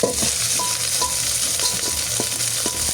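Cooked rice frying in a pan with garlic aromatics, a continuous close sizzle with irregular scraping and clinking stirs throughout, no voices.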